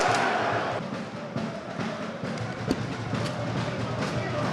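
A football crowd chants at a Zonguldakspor versus Büyükçekmece Tepecikspor match, a steady, distant roar of many voices rising and falling slightly across the stadium.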